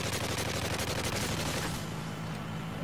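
MP5 submachine gun fire rattles in a continuous, dense stream as it shoots down a helicopter in Call of Duty, loud and close throughout with a rumbling low end.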